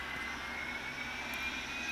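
Airliner engines spooling up during startup in Real Flight Simulator, a steady, continuous jet whine and rush with a faint rising tone, heard alone at moderate level.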